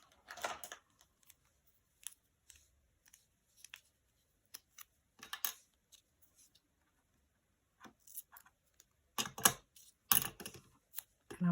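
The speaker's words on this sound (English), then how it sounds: "I'm just going to cut a strip." Scissors snipping a strip of double-sided tape at a craft table, quiet crisp clicks and short cuts scattered irregularly, with a denser cluster of louder snips toward the end, close and faint, no talk.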